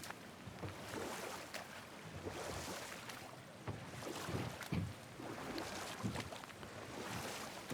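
Boat rowed along a river in God of War, with soft steady water swishing and oar splashes alongside wind-like ambience, moderately quiet and continuous throughout.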